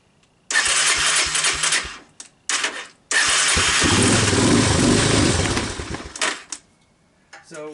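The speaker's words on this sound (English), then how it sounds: "it will start with starting fluid, but it will not start with choke" A Honda Big Red 250 three-wheeler cranks in short choppy bursts after a shot of starting fluid, then catches and runs roughly for a few seconds before sputtering out, followed by a couple more brief cranking attempts.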